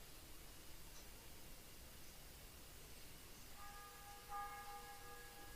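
A church bell tolls noon in the medieval setting of the video game Kingdom Come: Deliverance, entering late as a few faint ringing strikes over a steady hiss of ambient noise.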